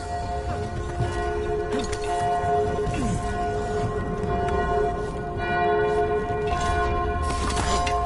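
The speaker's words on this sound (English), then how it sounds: "You hear that? Must be the bell tower." Bell tower in the Dragon Age video game ringing with sustained, overlapping tolls that resonate continuously, moderately loud, over a soft ambient wash with faint rain-like texture.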